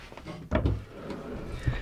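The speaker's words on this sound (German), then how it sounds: "Schubladen." Drawers aboard a Ferretti 580 motor yacht slide and shut, giving a near, soft thud around the middle followed by a lighter knock near the end over faint room noise.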